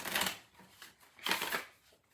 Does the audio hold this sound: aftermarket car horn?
no